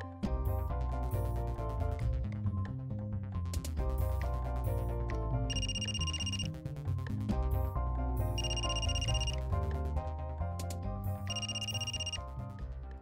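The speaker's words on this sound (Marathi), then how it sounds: "काकडेला फोन करावा, त्याचाही ग्रुप खूप मोठा आहे." A telephone rings with a repeating melodic ringtone as a call is placed in a Marathi TV drama scene, the tune cycling steadily and fairly loud with no one speaking over it.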